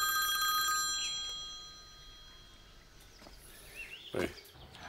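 Telephone ringing indoors, a bright electronic ring at the start that stops once answered, followed by quiet room tone and a few brief faint sounds.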